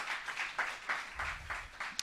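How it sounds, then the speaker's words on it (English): Audience applause fills a conference hall at a tech summit after a presentation, a steady, moderately distant wash of clapping with a few sharper claps standing out. "again, round of applause for excellent presentation."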